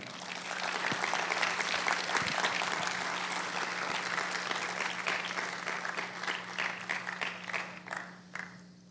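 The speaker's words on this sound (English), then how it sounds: "You should clap your hands about that." Steady audience applause fills a church, a dense continuous clatter of many hands heard at moderate distance, slowly thinning toward the end.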